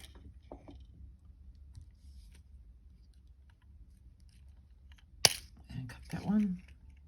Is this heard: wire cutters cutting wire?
yes